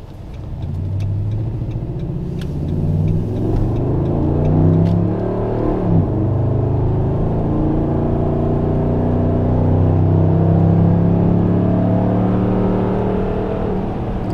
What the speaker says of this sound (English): The old Hemi's humming.